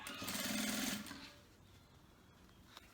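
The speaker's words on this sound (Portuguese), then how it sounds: "você já pode passar uma costurinha aqui em volta, prendendo esse forro no lugar." A sewing machine stitches a lining in place around the edge of a bag, running fast and close for about a second, then stopping and leaving a quiet room.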